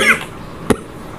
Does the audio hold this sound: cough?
yes